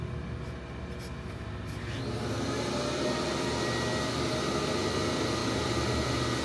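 Reel mower cylinder spinning on a reel grinder during a test grind, a steady loud whirring drone with a continuous grinding hiss that swells slightly after the first couple of seconds and holds evenly.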